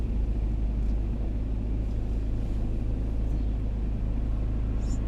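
Steady in-car rumble while driving along Station Road in Blackpool's South Shore, a constant low engine and road drone heard from inside the cabin, even and unbroken with no talking.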